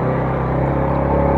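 A Yamaha Vega R motorcycle engine runs at a steady idle close by, producing a continuous low rumble with a faint, even mechanical whir and no talk.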